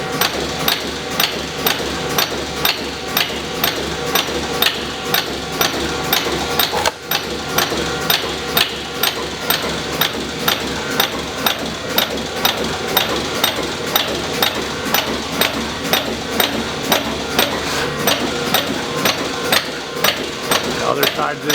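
A Strippit LVD 1000XP turret punch press with auto-index stations runs at a steady pace, each punch stroke a loud sharp metallic thump repeating roughly every half second over a constant mechanical hum, with a voice talking throughout.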